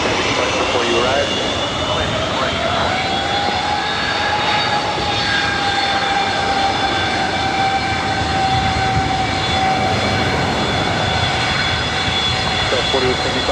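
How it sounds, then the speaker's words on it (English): United Boeing 757-300 jet airliner departing LAX for Honolulu, a loud sustained engine roar with a rising whine, a broad continuous rush throughout, while people talk faintly in the background. "The United 757-300 heading to Honolulu up next"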